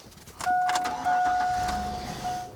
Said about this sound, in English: I'm gonna go in my vehicle right now, start it up.